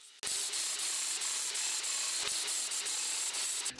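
Angle grinder rounding over the corners of welded steel and grinding off tack welds, a steady close abrasive hiss with brief dips in pressure, heard alone for nearly four seconds.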